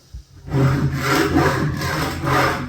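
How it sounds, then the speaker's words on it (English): Dried drywall mud being scraped off a floor with a scraper, a loud, close rasping scrape in long repeated strokes after a short knock at the start. "Scraping all the drywall mud off, sweeping it, and then vacuuming it."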